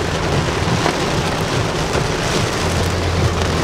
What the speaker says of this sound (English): it's pouring so bad